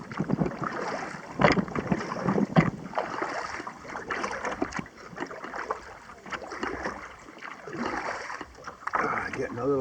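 Kayak paddle strokes dig into the water on Clear Lake, pulling against a strong wind that buffets the microphone, with repeated splashing pulls under steady gusty rushing.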